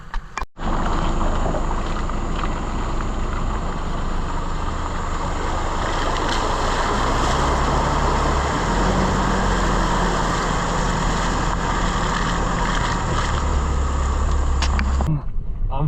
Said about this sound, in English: I'm 4-wheel driving in the Glasshouse Mountains